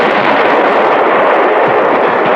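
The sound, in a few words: cannon fire in cartoon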